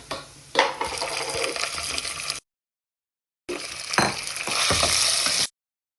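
Chicken strips frying in hot oil with grated golden onion, a broad crackling sizzle with stirring and pan clatter, in two loud bursts split by a short silent gap; no talk.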